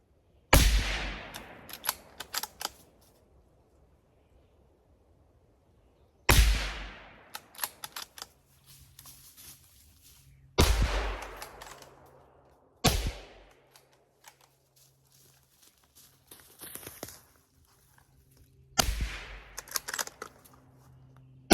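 Ruger American 5.56 rifle fitted with a suppressor firing outdoors, five sharp muffled reports spaced several seconds apart, each followed by brief clatter and quiet gaps, no voices.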